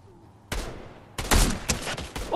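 Sharp gunshots from a Fortnite match crack out in quick bursts after a quiet start, the shots growing louder and denser toward the end.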